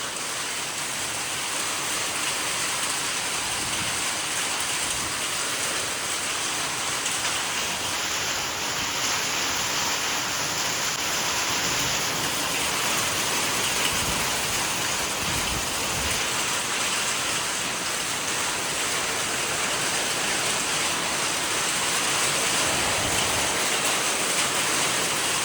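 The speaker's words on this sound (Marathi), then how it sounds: "गारा पडतात गारा." Hail falling with heavy unseasonal rain at a cattle shed, a dense, constant roar of drops on surfaces that stays loud and even from start to finish.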